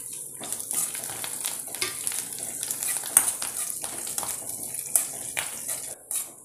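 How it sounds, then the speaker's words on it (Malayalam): Curry leaves crackle and sizzle in hot oil with mustard seeds, onion and chili, a close frying hiss broken by sharp pops and stirring scrapes. "അതിനകത്തേക്ക് നമ്മൾ എടുത്ത് വെച്ച കറിവേപ്പിലയും ചേർത്ത് ഒന്ന് മൂപ്പിച്ചെടുക്കാം"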